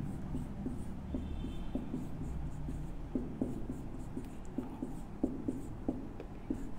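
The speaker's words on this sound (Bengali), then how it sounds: "একটু ফ্রেশ করে লিখি।" A pen scratches out chemistry notes on paper in short irregular strokes and taps, quiet and close against a low room hum.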